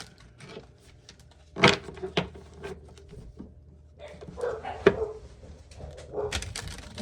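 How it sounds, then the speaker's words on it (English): Dogs bark indoors in a few sharp, fairly close bursts spread across the stretch, over quiet room noise, with no talk. "Sorry, my dogs are barking."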